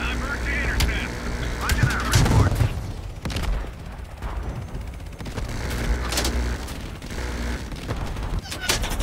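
Gunfire in the video game Call of Duty Cold War sounds as sharp repeated shots and mechanical clatter with rumbling blasts, the shots spread across the scene and mixed with game noise and some voices.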